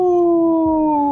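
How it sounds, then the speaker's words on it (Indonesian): A sustained, steady howl at close range, loud and alone, attributed to the Asu Baung, a Javanese dog-man creature of local legend, its long drawn tone sliding slowly downward without a break. "Sedangkan Baung itu artinya lolongan anjing."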